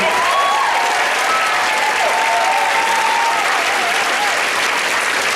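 Loud, steady applause from a large audience at a mayoral campaign opening rally in 2017, sustained throughout with crowd noise and a few whistles cutting through.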